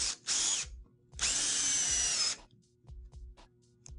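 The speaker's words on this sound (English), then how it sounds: "With composites, it's usually required that you pre-drill before you face screw." Power drill pre-drilling a composite deck board: a short whir, then a longer sustained high-pitched bore of about a second, followed by a few faint clicks and taps, close and loud.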